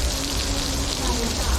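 Rain falls outdoors by the water during fishing in Canada, a loud, close, continuous hiss and patter of drops that fills the whole moment, with a faint low hum underneath.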